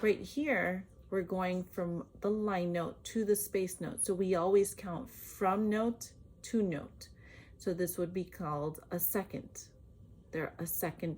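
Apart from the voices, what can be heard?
None of the usual background noises is heard.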